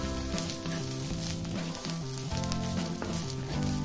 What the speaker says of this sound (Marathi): लसूणला पण थोडासा भाजून घ्यायचा, म्हणजे आता दोन्ही मिळून आता भाजलं जाईल